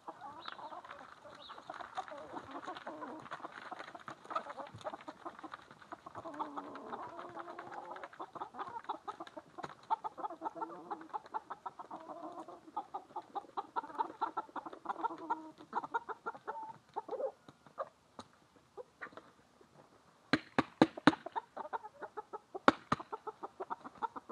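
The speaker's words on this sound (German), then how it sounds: "mal die Hühner rauslassen" Chickens let out of their coop in the morning cluck and murmur steadily in a close, busy flock, with scattered sharp clucks and scratching sounds over a quiet background.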